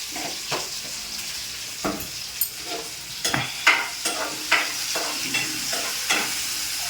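Onions and green chillies sizzle in hot oil for a tomato and drumstick curry while a spoon stirs them in short scraping bursts over a constant frying hiss, with no one talking.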